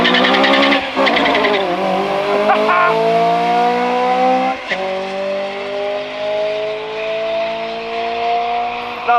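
A drag race car at St Thomas Dragway on a Friday night roars loudly down the strip, its engine note climbing through gear changes with sustained harmonic whine, heard from the stands with crowd chatter underneath.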